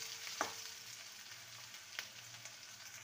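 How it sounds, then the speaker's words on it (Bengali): Onions and chopped green chillies frying lightly in a pan for egg ghugni. A quiet, steady sizzle sounds close by, with a couple of soft stirring scrapes. "ভালো করে ভেজে নেব, তবে একদম পেঁয়াজটাকে লাল করে ভাজবো না"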